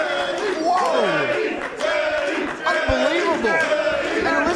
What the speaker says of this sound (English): And listen to this crowd. They're going wild for Teddy.